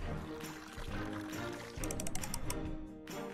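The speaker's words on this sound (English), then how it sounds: "Now choose a nice juice flavor and pour it into the mold." Juice pours into a dessert mold in The Smurfs Bakery mobile game, a light bubbly pouring effect layered with busy background game music and clicky interface taps.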